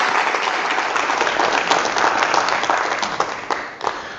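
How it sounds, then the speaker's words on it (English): An audience at the Orkney International Science Festival claps steadily to welcome a speaker to the stage, a loud, continuous wash of applause that thins out near the end with a few scattered claps. "I'd like to give him a warm round of applause to welcome on stage."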